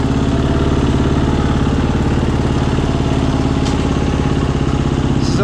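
A 2022 KTM 350 EXC-F dirt bike fitted with a Taco Moto GET SX1 ECU, warmed up and putting slowly around a yard, its single-cylinder engine popping in a rapid even low-speed rhythm, close and steady throughout without voices.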